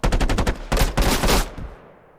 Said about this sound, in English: We can pick up this weapon here and shoot with it.